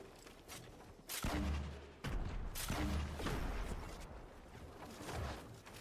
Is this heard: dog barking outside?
no